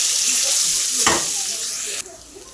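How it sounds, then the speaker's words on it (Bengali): Sliced onions drop into hot oil left from frying rohu fish for a Bengali fish curry, giving a sudden sizzle that settles into a steady, close frying hiss. "এবার এই তেলেই পেঁয়াজগুলো দিয়ে দিলাম"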